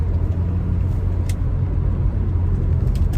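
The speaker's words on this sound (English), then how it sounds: "Lovely smooth engine." A 1990 Volvo 240 GLT five-speed estate idles with a steady, smooth low rumble, close and continuous with no voices.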